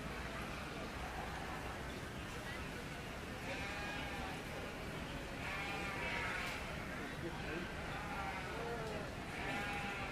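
Several sheep bleat over and over at a youth market lamb show, close and fairly loud, amid a busy crowd murmur and occasional talking.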